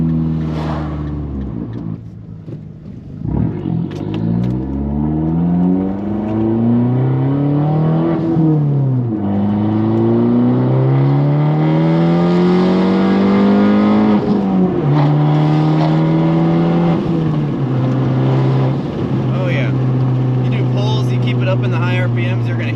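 Car engine fitted with an aftermarket intake revs repeatedly into high RPM, rising and falling sweeps with a loud, sustained exhaust note close by, holding high for long stretches.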